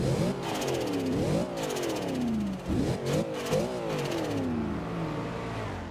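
A 2012 Cadillac Escalade engine in Forza Horizon 2 revs up and down repeatedly, the pitch climbing and falling in several sweeps, loud and close with a slight clattering edge.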